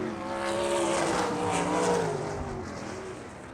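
ASCS Elite non-wing sprint cars racing on the dirt track at South Texas Race Ranch, a loud engine roar that swells and rises in pitch as cars pass, then fades slightly, with no talk.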